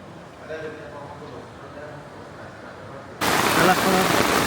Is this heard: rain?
yes